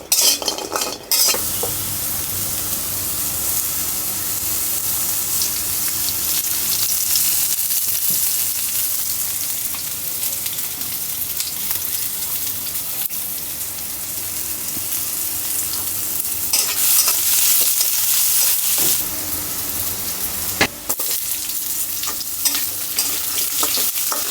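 Lentil bori frying in hot oil in an open pan, a steady, loud sizzle lasting throughout with stirring and occasional scraping of a utensil against the pan, and no voices.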